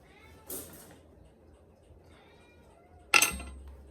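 A house cat meows twice, the short calls coming close and clear a few seconds apart against a quiet indoor background.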